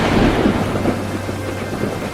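Heavy rain pours steadily while low thunder rumbles underneath, a dense, continuous wash of storm noise.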